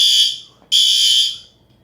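A building fire alarm sounds during routine system testing: a loud, shrill electronic tone blares, fades and cuts out briefly, then blares again for about half a second before tapering off, with no talking.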